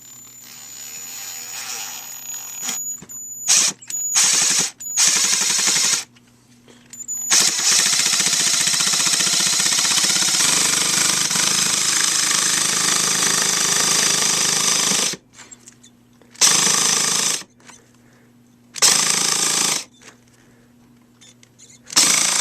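A Ryobi Quietstrike P290 impact driver drives a screw in loud bursts: short starts and stops, a long continuous run of about eight seconds, then several more brief bursts, with a faint whine between them.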